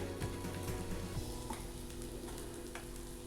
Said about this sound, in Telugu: అల్లం వెల్లుల్లి పేస్ట్ పచ్చివాసన పోయేంత వరకు మనం ఆనియన్స్ అనేది ఫ్రై చేసుకోవాలండి.